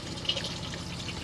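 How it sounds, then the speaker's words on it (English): A toilet flushes in the washroom of a Chausson 648 Titanium motorhome, with the water pump switched on, giving a soft continuous rush and trickle of water, close and even throughout, no voices. "which flushes the toilet"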